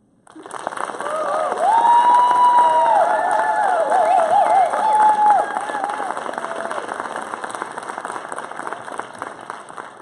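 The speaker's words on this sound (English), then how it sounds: "And clap until we are finished bowing." A recital audience claps while performers bow, loud continuous clapping mixed with children's excited shouts and cheers over the first half, easing slightly but continuing to the end.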